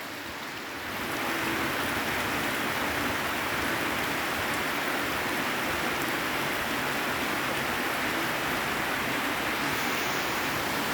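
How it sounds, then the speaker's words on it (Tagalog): Heavy rain pours steadily over a farm garden during a storm, a dense unbroken hiss of falling water that swells in the first second and then holds loud and constant, with no talk. "Lakasan pa ang ulan."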